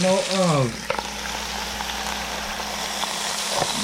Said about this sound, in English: And we're grilling this, no oven.